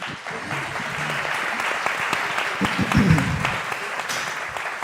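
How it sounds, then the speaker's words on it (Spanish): Conference audience applauding a guest speaker in a hall, with steady dense clapping across the whole span that swells slightly near the end, along with a few louder individual claps and faint voices underneath. "Un aplauso para Javier."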